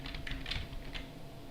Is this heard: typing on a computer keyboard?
yes